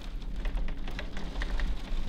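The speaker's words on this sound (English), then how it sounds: "It's like torrential rain out there." Torrential rain pours outside a window during a multi-day downpour, a steady dense hiss with scattered louder drops, moderately close and continuous, no speech.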